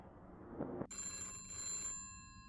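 In the video game SWAN: Chernobyl Unexplored, an old telephone bell rings in a bunker, a harsh metallic trill in two bursts after a soft thud, moderately loud with a quiet hum behind it.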